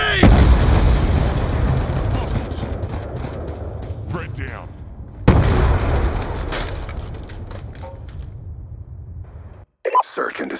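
A grenade explosion in Black Ops 2 Search and Destroy: two loud, close booms each followed by a long rumbling decay with scattered gunshots, a voice calling out over the fighting, then an abrupt brief cut near the end.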